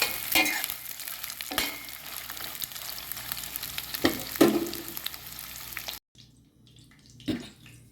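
Prawns frying in oil, a crackling sizzle with sharp spoon scrapes and clatters against the pan, then a sudden hush that leaves only a quieter hiss and one more stir.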